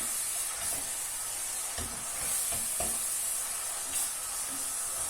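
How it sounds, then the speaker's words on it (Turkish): Minced beef sizzling in olive oil in a pan, a steady close frying hiss with a few soft scrapes of stirring, no voices. "kamerayı başlatmadan önce ben kıymayı kavurmaya başlamıştım"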